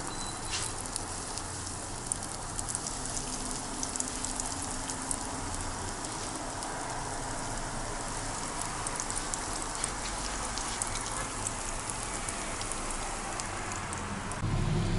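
Potato-filled pirozhki fry in hot oil in a preheated pan, giving a soft, continuous crackling sizzle at moderate distance, steady throughout with no talking.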